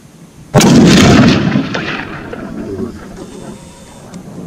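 A single loud, close gunshot is fired at a bezoar ibex on a hunt. The sharp blast is followed by a long rumbling echo that fades over several seconds.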